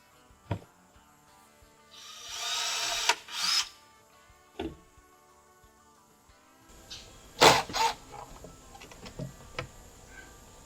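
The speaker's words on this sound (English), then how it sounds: "I'm just going to pre-drill a couple holes in this" Power drill pre-drilling holes in wood for a deck bench: two short whirring bursts of the drill separated by quiet stretches, with scattered clicks and knocks of handling nearby.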